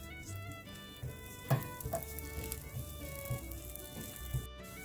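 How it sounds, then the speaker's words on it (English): Chopped garlic sizzles in melted butter in a hot pan, a soft, steady crackling frying sound with a few small pops and stirring clicks, close and fairly quiet with no voices. "To a hot pan, let's add 1 tablespoon of butter. And now we are going to add 1 clove of chopped garlic"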